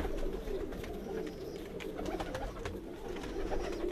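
Pigeons coo steadily in a rooftop loft, with soft repeated cooing calls and light rustling close by and at moderate volume, without any talk.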